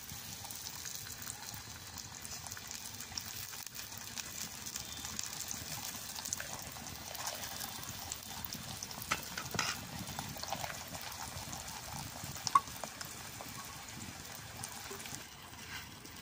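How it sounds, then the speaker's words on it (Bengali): Radish-stuffed paratha frying in hot oil, giving a soft, steady sizzle and crackle across the whole stretch, with a brief sharper pop near the end. "তেলটা গরম হয়েছে, পরোটাটা দিয়ে দিব।"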